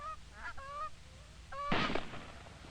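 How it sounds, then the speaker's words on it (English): Canada geese honk a few times in faint, brief calls, then a burst of louder honking closes out a quiet outdoor stretch. "they awaited the arrival of the geese"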